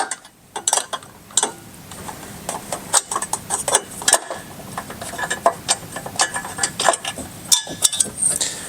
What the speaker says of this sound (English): we're going to remove this bracket here, removing these two bolts